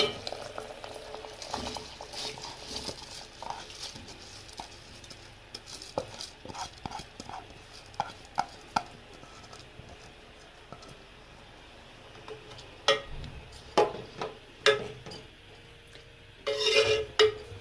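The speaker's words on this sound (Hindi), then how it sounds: "अब हम इसमें चावल शामिल करने जा रहे हैं।" Rice goes into a pot of cooked peas for matar pulao, bringing a quiet stirring and scraping with soft liquid bubbling and scattered clinks of a spoon against the pot, then a brief louder rustle near the end.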